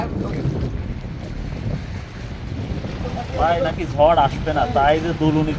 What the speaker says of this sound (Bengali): এখন তীব্র বাতাস বইছে